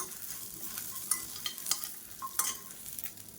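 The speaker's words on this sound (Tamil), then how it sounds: "இப்போ இதையும் சேர்த்து இதோட நல்லா வறுத்துக்கலாம்." Small onions sizzle quietly in masala in a pan for pepper chicken while a spoon scrapes and stirs them in a few brisk, uneven strokes.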